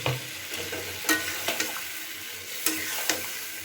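Spice paste thinned with a little water sizzles in a pan for shukto with lentil bori, a steady close frying hiss broken by intermittent scraping stirs.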